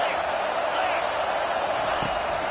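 A packed stadium crowd roars on a third down at an LSU college football game against the Bulldogs. The noise is a continuous, dense wash of cheering that stays loud and steady throughout, with no break or distinct voices standing out.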